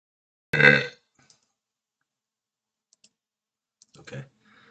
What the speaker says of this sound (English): why do I always get the hiccups when I start this thing?